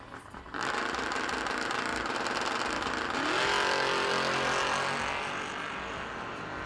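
Two drag racing cars launch side by side at a no-delay drag racing event, a sudden loud engine roar that holds and climbs sharply in pitch as they accelerate, then gradually eases.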